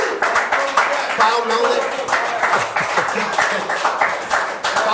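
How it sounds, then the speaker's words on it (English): Studio audience applause rings out through a live sports-themed broadcast special, a dense, steady patter of many hands clapping for the full stretch while someone talks over it. "Applause!"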